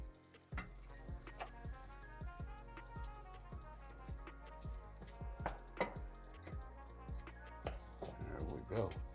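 Ground meat being mixed with chili powder, onion powder, garlic powder and pepper for chili sauce, a steady series of soft wet taps and clacks in quick uneven rhythm, close and fairly quiet.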